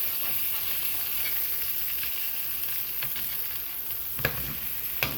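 A burger patty fries in a worn pan that no longer holds a non-stick coating, giving a continuous soft sizzle with a couple of faint scrapes near the end.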